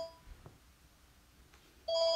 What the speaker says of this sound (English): I'm so sorry about the phone